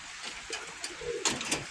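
Pigeons coo repeatedly at a breeder's loft, several soft throaty calls overlapping at close range with no talk.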